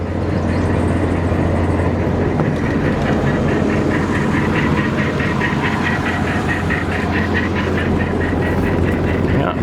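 A Massey Ferguson 760 diesel tractor engine with a bad electric lift pump runs steadily after hard starting, a loud, continuous close-up rumble with no pauses.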